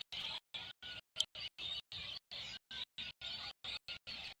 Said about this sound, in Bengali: কিচিরমিচির শব্দ অনেক ভালো লাগতেছে ওদের